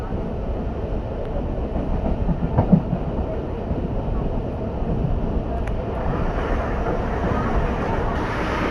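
A local train on the Shantipur–Simurali line running into Chakdaha station, a loud continuous rumble with rhythmic wheel clatter and a faint squeal, heard from inside a carriage on a winter night.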